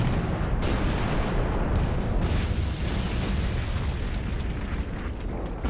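Artillery barrage at Dunkirk, with dense, continuous, loud booming explosions that blend into a roaring rumble and several sharper blasts breaking through.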